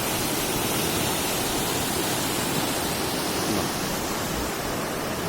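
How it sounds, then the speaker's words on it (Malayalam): The Pampa river runs in a steady, full rush of flowing water with no breaks, close and moderately loud, and no voices over it. "പമ്പയുടെ ജലപ്രവാഹം കണ്ട"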